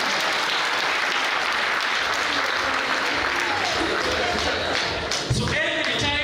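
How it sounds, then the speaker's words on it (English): An audience applauds at a public lecture on the Kenyan government's response to external shocks, with steady, dense clapping from many hands filling the room, tapering slightly near the end. "Can you clap for him?"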